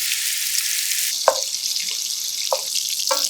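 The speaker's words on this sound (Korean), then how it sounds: "중약불에 팬 올려서 달구어지면 어김없이 반씩 잘라놓은 대패 삼겹살 넣고 붙어있는 것을 떼어주면서 볶아주세요." Thin-sliced pork belly stir-fries in a pan over medium-low heat, giving a steady bright sizzle, with a few sharp clacks of a utensil against the pan along the way.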